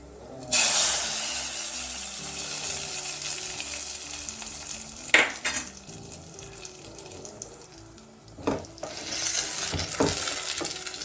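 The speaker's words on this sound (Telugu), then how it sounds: "ఒక 2 మిర్చి వేసి బాగా ఫ్రై అయిన తర్వాత ఇందులో తాలింపు వేసేసుకోండి" Green chillies and tempering spices sizzle in hot oil for palak paneer, a steady close frying hiss with loud bursts of crackle and spattering as ingredients hit the pan and are stirred.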